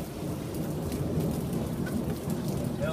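A thunderstorm fills the air with steady heavy rain hissing on surfaces and a low, continuous rumble of thunder underneath, with no voices.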